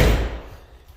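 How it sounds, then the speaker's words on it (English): A car door, old and creaky, on a project car in a garage gives a single loud thud or slam that fades over about a second, with no creak plainly standing out. "Creaky doors."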